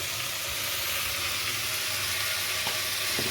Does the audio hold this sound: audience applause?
no